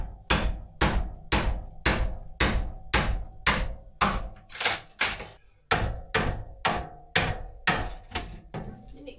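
Hammer blows strike repeatedly in a steady, forceful rhythm on an indoor demolition job, each impact sharp and loud with short ringing decay, about fifteen hits in quick succession.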